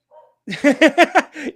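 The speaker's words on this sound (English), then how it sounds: "apologies for my dogs in the background there." Dogs bark in the background of a remote interview, giving a quick run of about five sharp barks after a faint, brief sound at the start, fairly loud and close.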